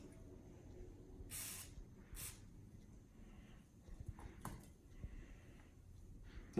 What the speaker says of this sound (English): We would apply lube.